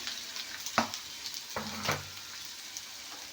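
Bitter gourd pieces hit hot oil with fried onion, giving a close crackling sizzle with a couple of sharp bursts as they are added and stirred.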